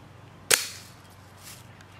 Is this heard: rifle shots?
yes